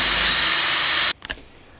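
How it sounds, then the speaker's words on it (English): A pneumatic rivet gun fastens a panel on an electric smoker being turned into a powder coating oven: one loud, steady hissing burst for about a second that cuts off abruptly, followed by a couple of faint clicks. "Obviously you'll need a rivet gun."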